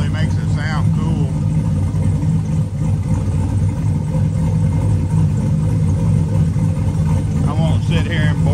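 A turbocharged 4.8-liter car engine with a Trick Flow 216/220 cam and a short downpipe rumbles and revs loudly up close, with a deep throaty tone, while a person talks over it.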